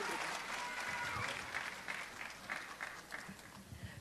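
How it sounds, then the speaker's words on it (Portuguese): Audience applause in a hall at a spiritist lecture gathering in São Luís do Paraitinga, a steady wash of clapping with some faint voices mixed in beneath it. "Agora palmas de novo"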